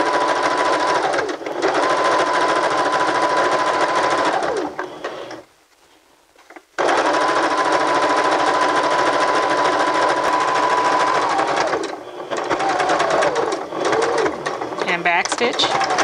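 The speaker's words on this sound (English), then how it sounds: "continue to sew" A sewing machine stitches fabric in a fast, steady whir, running in two long bursts separated by a short pause and a brief slowdown before a final stretch.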